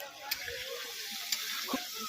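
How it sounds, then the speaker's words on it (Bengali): Cauliflower fries in a pan at an outdoor picnic, giving a soft continuous sizzle with a few faint clicks and knocks from stirring. "ফুলকপি ভাজা হচ্ছে"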